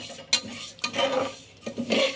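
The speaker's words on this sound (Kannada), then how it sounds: "ಇಲ್ಲಿ ಅರ್ಧ ಲೋಟ ಹೆಸರು ಬೇಳೆ ಹಾಕ್ಕೊಂಡಿದ್ದೀನಿ ಹುರಿಯೋಕ್ಕೆ." Moong dal and rice roasting dry in a pan, a spoon scraping and stirring the grains in short bursts, light rattling and gentle sizzle, close and alone.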